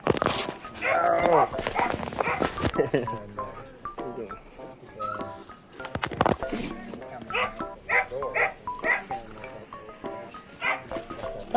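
Borzoi puppies yip, bark and whimper in short bursts close by, scattered among frequent human talk and exclamations during a visit.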